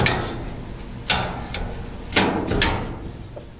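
A metal drawer is rocked into place, pushed in and slid out on a Borroughs tech cabinet, giving a few sharp clunks and sliding knocks close by, no voices.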